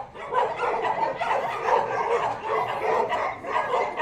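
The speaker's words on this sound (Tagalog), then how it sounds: "Ang daming aso." Several dogs bark and yip at once on a farm in Palayan City, Nueva Ecija, in a steady, overlapping din that never lets up, with some barks nearer and others farther off.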